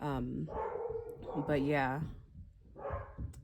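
A dog barks and whimpers in short bursts close by, mixed in with a person talking.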